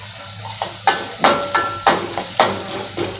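A spoon knocks and scrapes rhythmically against a pan, about six clear strokes, as onions with turmeric and curry leaves fry beneath in a soft sizzle.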